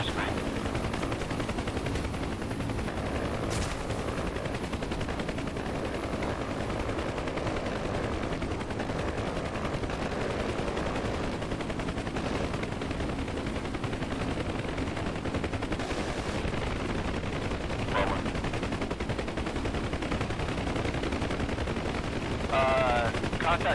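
Machine gun fire at a convoy in the video game DCS World, a continuous dense rattle of automatic bursts under steady engine-like rumble, lasting throughout with a few louder cracks.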